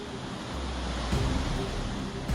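Swollen Ganga river at Rishikesh in flood, a loud continuous broadband rush of fast-flowing water, steady throughout with slight surges.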